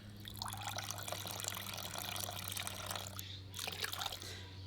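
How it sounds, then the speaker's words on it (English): Water poured from an old glass bottle, a steady close trickling and splashing that runs for several seconds before breaking into a few brief gurgling spurts near the end. "I want to pour out a little bit of this water."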